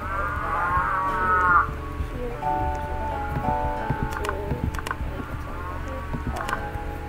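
Cattle mooing in the farming video game Farming and Friends, several drawn-out low calls overlapping with ambient game sounds and occasional clicks, no talking.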